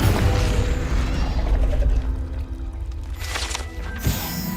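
A Confringo fire-blast spell cast in the video game Hogwarts Legacy: a dense, loud roar of game effects that swells throughout, with a sharp burst near the end.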